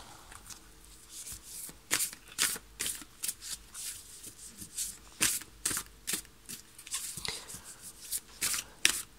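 A tarot card deck being shuffled and cut by hand, with repeated crisp riffling bursts and flicks in an irregular rhythm, close and clear with no talk.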